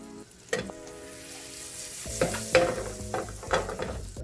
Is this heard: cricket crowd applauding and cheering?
no